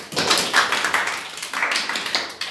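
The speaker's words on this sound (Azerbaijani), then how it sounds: "Bir alqış qıza." A small group claps for a girl who has won a quiz round, a brief burst of uneven, close hand claps lasting a couple of seconds.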